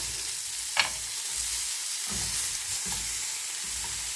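Chicken breast sizzling in a grill pan just after a final flip, a steady close hiss of frying with a few soft clanks, no voices.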